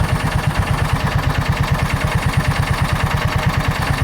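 The engine of a John Deere Gator 4x2 utility vehicle idles close by, loud and steady, with a fast, even chugging pulse that runs alone and unchanged throughout.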